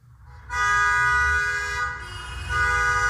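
Several car horns honking together in a parking lot or parking deck, loud sustained blaring tones that shift and overlap, with no talking.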